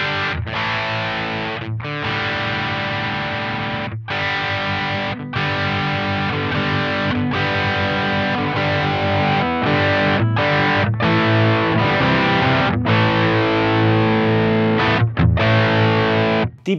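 Electric guitar driven through a J. Rockett The Dude overdrive pedal with the bass raised, playing loud sustained distorted chords and riffs with brief gaps, thick and full-bodied.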